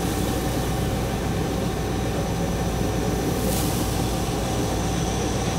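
A Hardinge HLV-EM super precision tool room lathe runs at high speed, around 2000 RPM, giving a steady, even machine drone with a faint whine that holds without a break.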